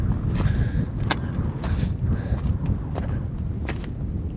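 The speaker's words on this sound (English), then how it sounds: "Windy." Wind buffets the microphone in a steady low roar, with gusts flaring up every second or so.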